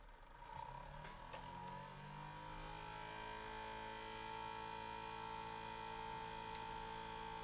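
A wee smaller motor on a homemade build runs with a steady faint electric hum and whine, starting up early and then holding an even drone, somewhat noisy, with no talk.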